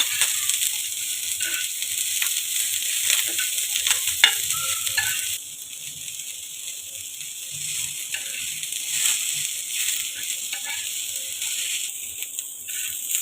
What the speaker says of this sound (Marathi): कांदा सुद्धा आपल्याला छान असा भाजून घ्यायचा आहे